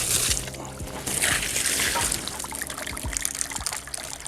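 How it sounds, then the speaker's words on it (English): Water from a hose test on an Axopar 37 boat's electric sunroof runs off and trickles into a large gutter and drains, a steady splashing, dribbling flow with intermittent louder spray bursts. "All that water is running off to the side outboard, going down into this huge gutter, and then coming out in the drains"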